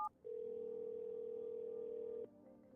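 A telephone dial tone in the video game No I'm Not a Human: a short click and beep, then a steady, unbroken tone for about two seconds that cuts off abruptly, leaving a quiet hum behind.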